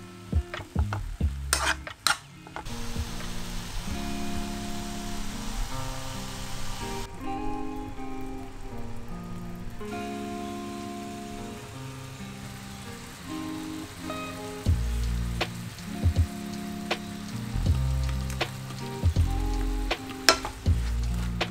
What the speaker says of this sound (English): So I'm gonna let these mushrooms saute for a bit